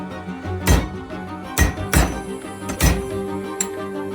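A riveting tool presses rivets through leather knife sheaths, giving about four sharp, close knocks spaced irregularly over a quiet background.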